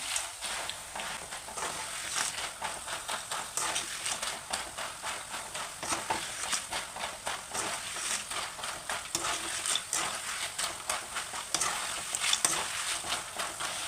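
Salted fried banana chips being stirred in a pan, a continuous close sizzle with rhythmic scraping and rustling strokes throughout, loud and even with no talking.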